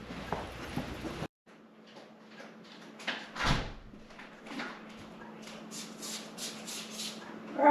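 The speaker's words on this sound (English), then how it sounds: "We're going to get Linda's surprised reaction when she comes through that door" A door opens as someone comes in, with a soft knock-like thud and shuffling amid quiet room noise, followed by faint scattered movement sounds.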